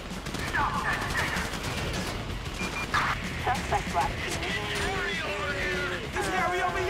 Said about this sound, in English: Listen to the shooting!